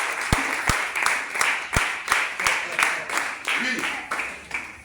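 At a church convention, a crowd applauds with loud, sharp individual claps standing out over the steady clatter of hands, while a voice speaks over the applause.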